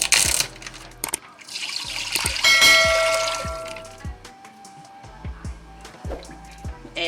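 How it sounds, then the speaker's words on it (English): Vegetable stock pours into a cooking pot in a rushing, gurgling stream that tapers off, followed by scattered light clinks and knocks of the pot and utensils, close by and without talk. "pour my vegetable stock in my pot"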